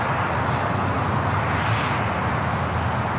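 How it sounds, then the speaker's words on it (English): A United Airlines Boeing 777-200 takes off at LAX, bound for Honolulu, a steady distant roar of jet engines with broad rumble holding level throughout, with no voices. "This is United Airlines 1158 taking off to Honolulu on the 777-200."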